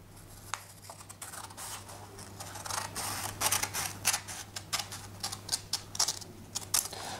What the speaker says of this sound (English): Then you cut along the resulting crease.